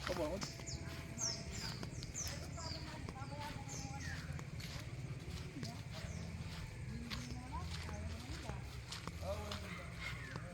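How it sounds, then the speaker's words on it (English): Outdoor ambience with horse hooves clip-clopping at a walking pace on a rural road, birds chirping and people talking in the background. "Oh, horses come through here."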